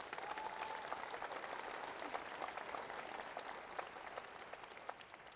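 An audience at a city's State of the City address breaks into sustained applause, a dense, even wash of clapping heard from a little distance for several seconds.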